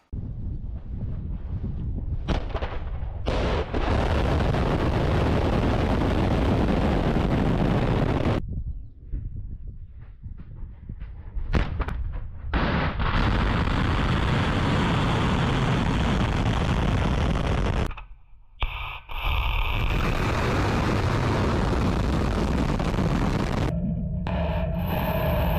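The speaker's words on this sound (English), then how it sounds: "Russia just fired off its massive Sarmat ICBM on May 12, 2026, from a silo up in northern Russia" A Russian Sarmat ICBM launches from a silo in northern Russia, a loud, sustained broadband roar that fills the scene, broken by several abrupt cuts and dropouts.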